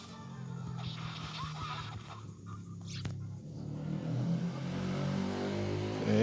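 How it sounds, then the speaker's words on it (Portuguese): A motorcycle engine revs and drones steadily, building louder toward the end, within the Dragon Ball: Advanced Adventure video game, with a faint rumbling background. "Eita, moto."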